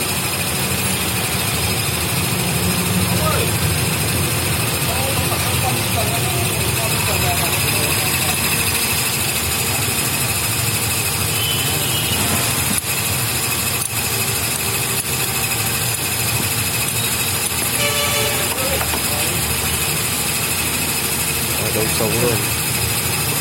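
A car engine idles steadily after a battery replacement, a continuous low rumble with a faint whine, while people talk nearby over it.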